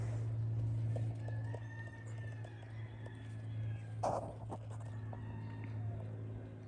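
A Tennessee Walking Horse mare named Sassy flat-walks around an arena, her hoofbeats soft and steady over a constant low hum, with a louder thud partway through and a few faint clucks in the background.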